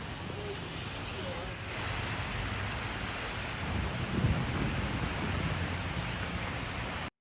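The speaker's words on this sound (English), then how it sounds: "if it's been doing this for a week straight, that's a lot of rain." Heavy rain pours steadily during flooding near 43rd and Broadway in New York City, a dense broadband wash with a low rumble of thunder swelling midway.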